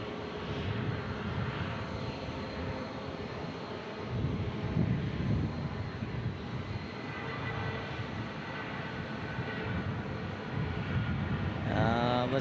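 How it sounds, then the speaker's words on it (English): A United Airlines Airbus A319 takes off, its older jet engines producing a loud, sustained roar with steady rumble throughout, close and continuous, no voices over it. "Listen to those old 319 engines roar."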